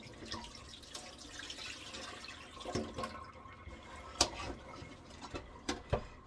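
Cut potatoes are rinsed under running kitchen tap water, a soft splashing wash in the sink punctuated by several sharper knocks and clatters, fairly quiet and close.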